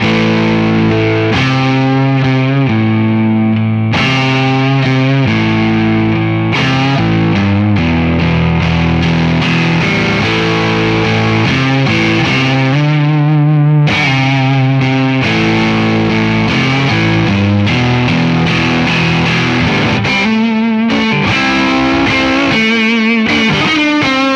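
A distorted electric guitar plays a lead line through a Spaceman Effects Atlas IV preamp booster pedal, sustained bent notes and quick phrases, loud and saturated with heavy overdrive throughout.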